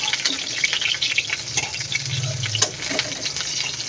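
Pointed gourd fried in oil without salt or turmeric gives a soft, uneven sizzle with stirring scrapes and light clatter, close by and continuous, with no speech.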